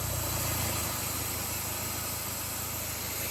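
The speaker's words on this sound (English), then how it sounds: "disconnect the exhaust from the DPF and start the engine again" A Vauxhall Insignia diesel engine idles with its exhaust pipe disconnected from the DPF, giving a steady, loud, close rumble with a broad hissing rush and an even low throb throughout.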